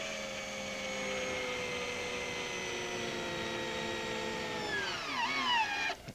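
A power screwdriver runs with a steady high whine while driving screws into deck boards, then winds down in pitch near the end as the screw seats, close and alone.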